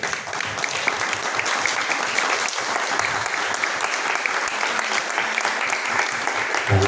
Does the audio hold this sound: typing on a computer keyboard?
no